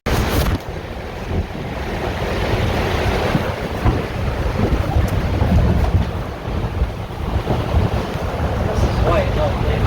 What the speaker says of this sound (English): A storm in the North Atlantic.